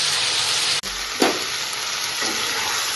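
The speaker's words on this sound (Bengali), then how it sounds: "পেঁয়াজ টমেটো সব কিছু ভেজে নিই।" Onions and tomatoes frying in a pan for paneer curry, a loud steady sizzle close by, briefly cut once, with a spatula scrape and stirring.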